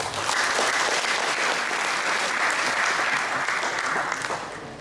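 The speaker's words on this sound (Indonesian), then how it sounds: "Kita tepuk tangan." A dense, steady burst of audience applause at an eighth-anniversary celebration for Fox Point Indonesia, many hands clapping at once with no voices, holding loud and even before easing slightly at the end.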